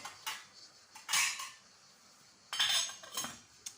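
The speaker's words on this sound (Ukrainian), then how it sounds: "Накриваємо кришкою." A metal lid goes onto a cooking pot for soup with meatballs, with two short bursts of clattering and clinking of pot and lid, close and fairly loud, separated by a quiet pause.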